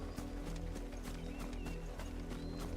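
Chocobo footsteps from Final Fantasy XVI: a steady, rhythmic clip-clop of running strides over a dense, continuous game backdrop.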